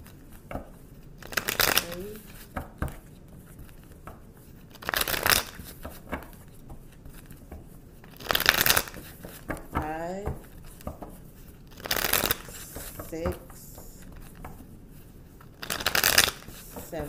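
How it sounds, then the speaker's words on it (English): Tarot cards are riffle-shuffled repeatedly, a crisp flurry of snapping paper every couple of seconds, with quiet talk and rustling in between. "I'm going to shuffle 8 times for you guys."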